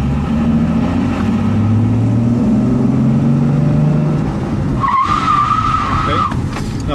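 A car with a limited-slip differential drifting on a closed track, engine roaring steadily as the tyres skid in a long sustained slide, loud and close, with a brief higher squeal near the end.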